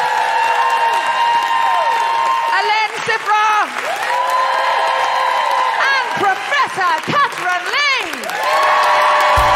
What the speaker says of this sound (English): can I just say a big round of applause to Georgia Oakley?